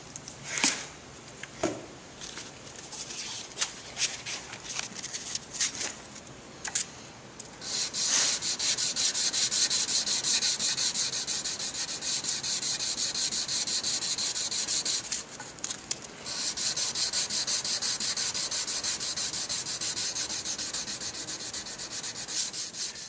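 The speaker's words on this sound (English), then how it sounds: "I'm going to do 400 grit next." A clay-coated knife blade is hand sanded with 400 grit sandpaper: scattered short rubbing strokes at first, then long, steady, continuous scraping, close and fairly quiet.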